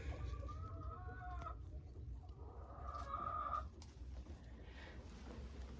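A laying hen in a henhouse gives faint, drawn-out clucking calls in a few separate bouts over a low, steady background hum. No one speaks.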